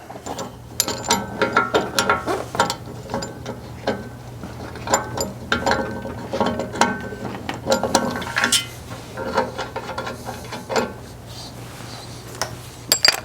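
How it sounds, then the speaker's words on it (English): Ratchet with a 12-inch swivel extension and Allen socket tightening bolts on a hood rack, dense rapid clicking bursts repeating steadily throughout at close range, with no talk. "I use a long extension, 12-inch extension with a swivel, and my Allen socket."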